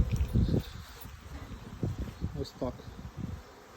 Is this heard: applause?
no